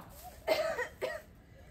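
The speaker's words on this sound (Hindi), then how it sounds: "तुम भी खांस रही हो" A woman coughs twice in quick succession, two short, harsh bursts about half a second apart, close and fairly clear against a quiet background.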